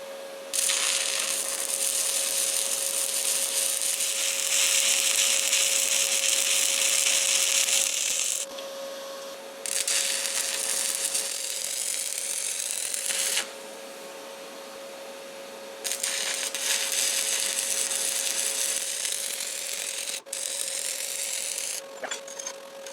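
Stick welding the top pass on a corner joint: a steady, close crackling arc hiss that runs in several long stretches, broken by short pauses between rods or runs.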